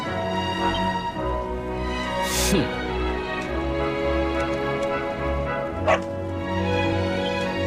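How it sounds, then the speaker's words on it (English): Dog barking in the Dragon Quest XI S video game, a few yips and whimpers over a continuous game soundtrack, with no voices. "Ah! No! No! Not a dog! Anything but that!"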